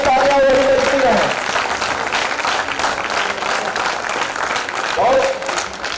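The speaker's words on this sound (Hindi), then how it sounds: "और मां हिंदी के सम्मान में भी तालियां वही बजती रहे" A crowd at a Hindi kavi sammelan keeps clapping in a thick, continuous wash of applause that eases slightly in the middle and swells again toward the end, with brief tonal sounds mixed in.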